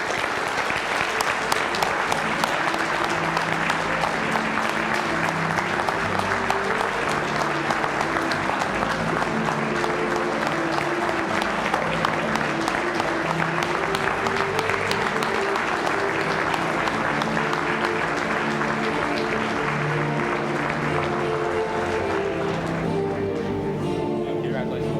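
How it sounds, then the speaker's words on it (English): A banquet audience at an insurance industry awards and installation dinner applauds steadily and loudly for an extended stretch, the clapping full and continuous, with a voice and music running underneath. "Please give a round of applause to our IIANC Bronze Partner and Company of the Year"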